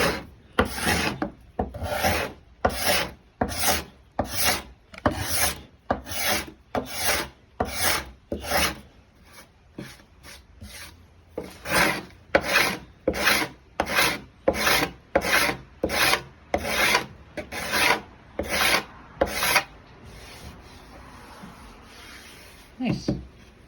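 Scraper rasping over 70-year-old wooden siding in steady repeated strokes, about two a second, close and fairly loud, with a brief pause midway and a trailing softer rub at the end.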